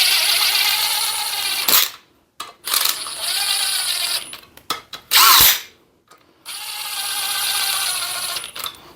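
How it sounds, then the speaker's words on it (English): A cordless impact wrench runs bolts down on an old rusty Briggs & Stratton engine in several loud bursts of whirring drive with brief gaps between them, plus a sharp metallic clack midway. "let's take my impact and just run the bolts down just till they touch"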